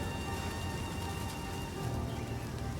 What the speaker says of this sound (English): Rain of Arrows launches a volley that continues to fall for some time